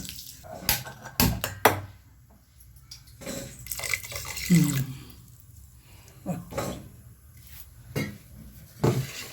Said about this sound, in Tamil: கொஞ்சம் தண்ணி ஊற்றிக்கலாங்க, சர்க்கரை முழுகிற அளவுக்கு.